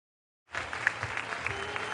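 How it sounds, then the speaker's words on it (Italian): Football supporters at a Promozione Sicilia match between Casteltermini and Gemini applaud their team, a distant, fairly faint crowd clapping that starts abruptly after silence and carries on evenly. "tifosi del Gemini che applaudiscono i beniamini"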